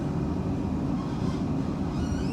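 A passenger train runs on the South Western Main Line in Surrey, a steady, loud rolling rumble heard from on board, with no talk over it.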